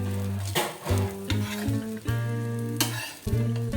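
A ragi and chickpea dosa sizzles loudly on a hot pan, a continuous close frying hiss broken by several short scraping and stirring strokes as the dosa is lifted off, with no talking.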